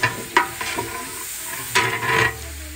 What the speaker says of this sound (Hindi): अब चिकन को भुना जाएगा कुछ देर।